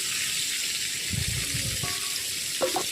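Potatoes stirred into a ridge gourd and katla fish curry in a pan, a steady bubbling sizzle with soft thuds and light scraping of the spoon, close and moderate in level, no voices.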